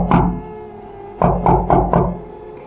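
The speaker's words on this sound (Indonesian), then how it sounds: "Terdengar suara pintu rumah diketuk dari luar." Knocking on the wooden front door of a house from outside: one knock, a pause, then a quick run of four loud, close raps.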